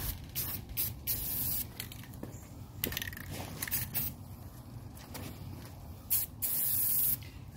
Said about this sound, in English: We'll get a nice coat of paint back on here.